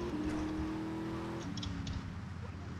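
A fast car driven in GTA Vice City, a steady engine drone with a gear-shift drop partway through, loud and close, with no talk.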